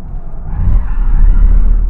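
A Lucid Sapphire electric sports car roars loudly on a track with heavy low rumble and a brief tire skid as it brakes hard, the noise building and staying steady.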